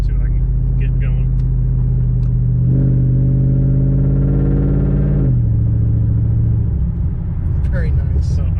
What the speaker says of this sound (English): I was like literally just setting my foot on the gas